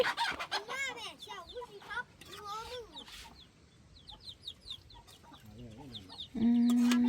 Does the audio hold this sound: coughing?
no